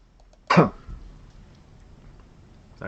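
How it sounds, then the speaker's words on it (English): A single short cough from someone recording a card game replay, abrupt and close to the microphone, followed by quiet room tone. "Sorry guys, I coughed on the video"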